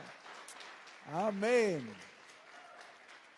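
A church congregation applauds loudly, the dense clapping hissing steadily like rain beneath a single voice that briefly calls out in the middle.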